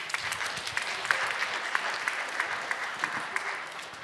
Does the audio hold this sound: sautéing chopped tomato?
no